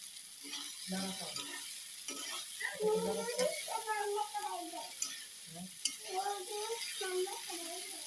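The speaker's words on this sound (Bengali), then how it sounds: "তো এখানে আমরা নুডলসটা দিয়ে দিয়েছি, এখন একটু ভেজে নিচ্ছি" Noodles frying in a pan at home, stirred and tossed with a utensil: steady sizzle under repeated scraping and clattering strokes, with a voice talking over it.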